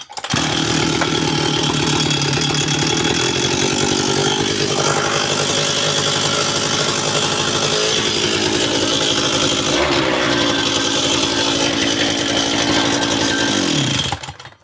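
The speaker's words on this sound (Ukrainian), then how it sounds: "Зараз спробуємо завести, включаємо зажигання на холодну." A small motorbike engine fires up from cold and runs with a loud, rough, high-revving buzz, then cuts out abruptly at the end.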